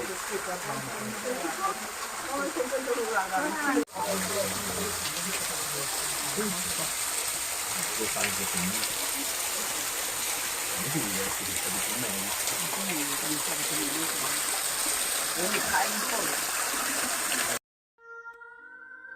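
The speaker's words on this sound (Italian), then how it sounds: "C'è una cascata." Rushing water from a waterfall in the gardens at Sintra, Portugal, keeps up a constant hissing gush at moderate level, with voices talking quietly over it before it cuts off near the end.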